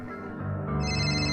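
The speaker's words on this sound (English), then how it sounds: "The phone rang again after that." A telephone rings in a quiet room, its electronic tone steady and fairly close, growing a little louder and brighter near the end.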